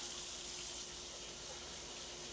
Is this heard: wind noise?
no